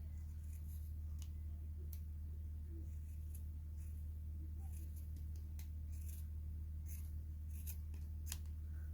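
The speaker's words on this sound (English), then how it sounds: "Next I'm just going to cut through all of these," Scissors snip through several strands of crochet yarn, a series of short, faint crisp cuts spread over a steady low hum, with no talking.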